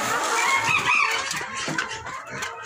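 Laying hens clucking busily at feeding time on a farm, a dense, continuous chorus of close clucks and squawks with a rooster-like call mixed in, no talk.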